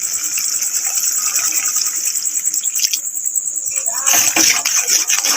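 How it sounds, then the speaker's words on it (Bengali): Water is poured into a pan of simmering chicken ghugni, a hissing, bubbling sizzle that swells louder near the end, with a voice talking under it. "আমি এবার পরিমাণ মতো এতে জল অ্যাড করব।"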